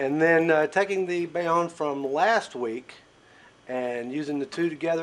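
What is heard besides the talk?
No distinct noise like a dog, phone or traffic.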